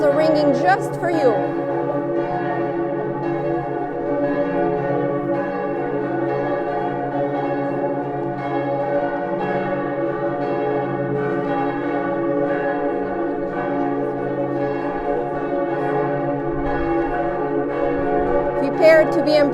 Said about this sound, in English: The bells are ringing just for you.